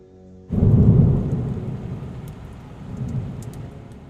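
Rain and thunder sound effect, a heavy rumbling thunderclap breaking in after a quiet start and fading into steady rainfall with a second swell of rumble.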